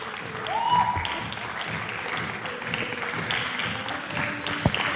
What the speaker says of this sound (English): Let's keep cheering her until she comes forward.